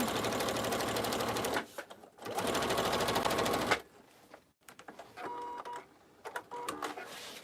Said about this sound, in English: I'm just sewing through from the top to the bottom.